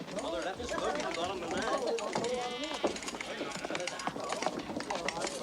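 Sheep bleat in a farmyard near shearing time, wavering calls rising over a busy mix of voices and scuffling hooves, with people talking throughout.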